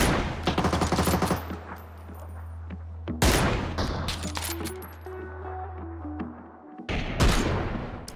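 Bursts of automatic gunfire in a battle royale video game, with rapid volleys near the start, mid-clip, and end, separated by quieter stretches with a steady low engine-like hum in the background.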